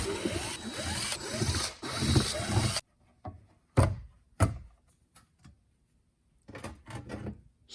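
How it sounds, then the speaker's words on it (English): Back cover pried and popped off a Deaf Bonce AAK2000.5 five-channel car amplifier: a few seconds of dense scraping and rattling handling, then silence broken by sharp plastic-metal clacks and thunks, and more rustling at the end. "Let's go ahead, pop this back cover off, just so y'all can see the insides."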